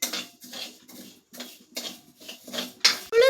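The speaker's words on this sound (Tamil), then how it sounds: "உளுந்து சிவந்து கொண்டே இருக்கிறது, இன்னும் சிவக்க வறுக்க வேண்டும்." Black urad dal roasting in a pan, the grains rattling and scraping under a spatula in short bursts with brief pauses between, close and crisp, ending with a metallic clink.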